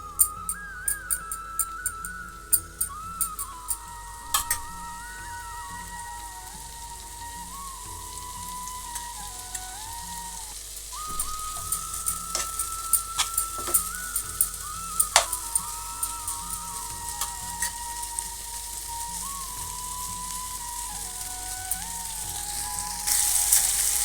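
Paneer masala frying on high flame in a pan gives a steady, soft sizzle with scattered crackles and pops throughout, heard close and fairly quiet, with a faint whistling tone running along in the background.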